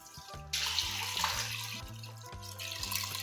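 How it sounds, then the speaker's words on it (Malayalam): Melted jaggery is poured into cooked rice in a pot to make rice payasam, giving a soft, continuous splashing trickle under light background music with a plodding bass line. "നമുക്കതിനകത്തോട്ട് ഉരുക്കി വെച്ചിരിക്കുന്ന വെല്ലം ഒഴിച്ച് കൊടുക്കാം കേട്ടോ."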